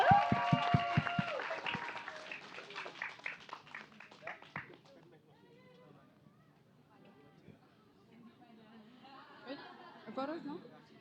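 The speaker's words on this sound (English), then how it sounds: "Big round of applause." An audience at a community storybook and storytelling competition awards applauds, with clapping mixed into chatter and voices that then thins out into quieter murmuring.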